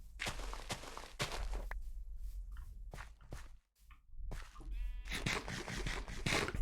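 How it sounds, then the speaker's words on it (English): Sheep bleat in a video game, with a couple of short bleats heard among the sounds of footsteps and other game noises, close and fairly loud. "Judgmental sheep are the worst."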